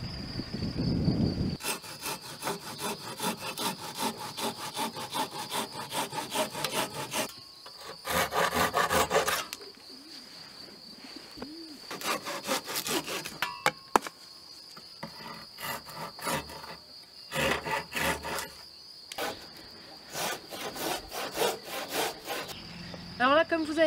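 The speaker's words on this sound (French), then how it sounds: "j'ai scié le tenon, j'ai scié la cheville parce que j'ai envie de faire un bardage" Hand saw cutting a wooden tenon and peg: close, rhythmic rasping strokes in steady bursts, broken by short pauses and a few brief clicks.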